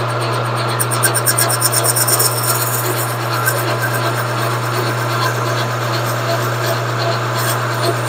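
A cutoff tool slowly cuts through a cork for a 1925 Maxwell fuel system rebuild, a steady rasping rub over a constant low motor hum, close and continuous.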